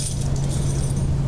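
Keys jangle in a steady, close metallic shimmer over a constant low electrical hum, with no pauses across the short stretch.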